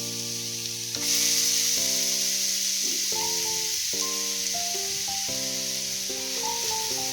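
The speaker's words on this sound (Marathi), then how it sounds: "गाजर आपण किसलेलं आहे ते आता यामध्ये गाजर टाकूया" Grated carrot drops into a hot pan with ghee for carrot halwa, setting off a sudden steady sizzle that continues under background music.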